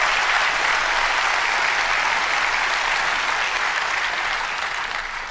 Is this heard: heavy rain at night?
no